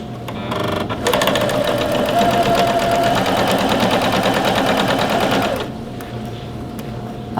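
A sewing machine stitches a reinforcing triangle at the placket markings of a Butterick B5538 garment. It runs as a steady, close, loud whir for about four and a half seconds, then stops, with brief handling sounds before and after.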